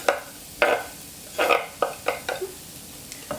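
Leek, chopped garlic and peeled ginger cooking in a pan for a vegan curry, heard as a run of sharp, close clatters and scrapes of stirring over a light sizzle, with no one talking.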